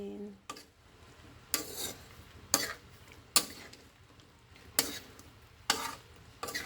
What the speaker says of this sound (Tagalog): Halo muna natin